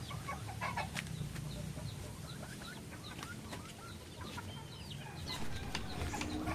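Hens and other farm fowl cluck steadily around a goat pen, with short bird calls repeating throughout over a busy low background rumble; no one speaks.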